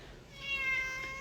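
A big fluffy brown tabby tomcat, three years old and fourteen pounds, gives a single clear meow close by at a shelter, with no voices over it.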